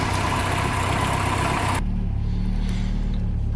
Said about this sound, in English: She fired up first time, still a little bit rough